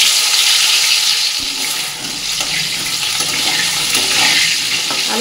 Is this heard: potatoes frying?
yes